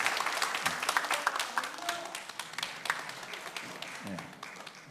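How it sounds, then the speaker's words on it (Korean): Church congregation applauding a visiting missionary, a steady crackle of clapping that rises and falls over about five seconds, with scattered voices mixed in. "박수를 합니다."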